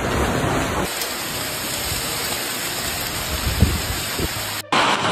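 Heavy hailstorm rain in China pours down as a dense, constant hiss, with a few dull impacts and a faint low rumble beneath, ending in an abrupt cut.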